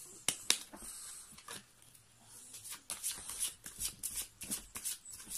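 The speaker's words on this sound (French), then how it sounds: "Je vais déjà prendre une petite carte d'énergie comme ça." Oracle energy cards are handled and drawn from a deck, giving quiet shuffling rustles with a few crisp snaps and a run of soft flicks toward the end, close up, with no talking.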